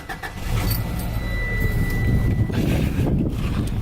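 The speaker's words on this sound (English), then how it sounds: "Start the car so you can hear. Even with the stock exhaust, it's got a pretty good rumble." A 1994 Subaru Impreza WRX STI with stock exhaust starts up and settles into a steady, close, low exhaust rumble, with some wind noise on the microphone.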